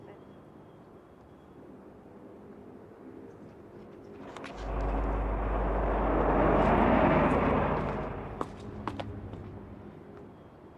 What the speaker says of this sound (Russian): самолет, прибывший из Москвы, рейсом 2013